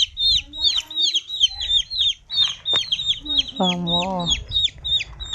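A pet hen on a farm gives a short, harmonic call among rapid, repeated high peeps. The sounds are close, and a voice briefly exclaims.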